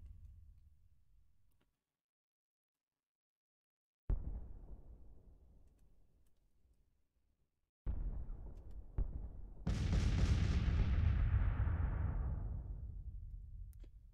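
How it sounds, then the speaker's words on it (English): Artillery bombardment in a war strategy video game: a few separate heavy booms, each decaying slowly, then a longer roaring blast that swells and fades, with silent gaps between. "I guess I'll just enjoy the bombardment while I have it."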